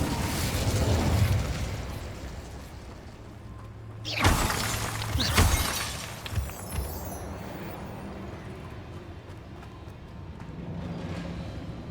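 A fiery Incendio spell blasts out in the video game Hogwarts Legacy, a sudden loud burst with a crackling whoosh that flares twice around the middle and fades back into a steady ambient game soundscape.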